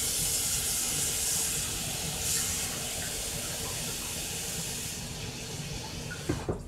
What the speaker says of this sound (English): you fill it up with water in here, of course, and I'm going to fill it up with water.